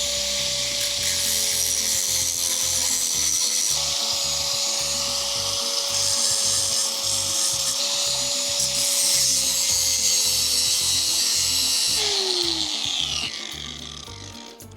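An angle grinder works over a fresh weld bead to finish it, a loud, continuous high whine with steady rasping grit and a slight pitch drop near the end as the disc eases off.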